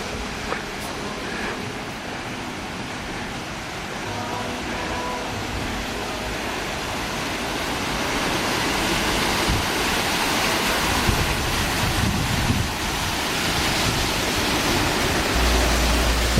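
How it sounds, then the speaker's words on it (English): Water rushes out of a cave at Cascade Falls, fed by a nearby lake and sinkholes, a steady broadband roar of flowing water that grows slightly louder partway through, with no voices. "The water comes right directly out of a cave."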